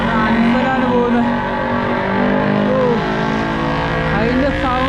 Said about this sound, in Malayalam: R3 ആണെങ്കിലും കിഡില്ല സൗണ്ടാണ് വണ്ടിക്ക്